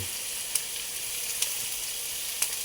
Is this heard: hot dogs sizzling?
yes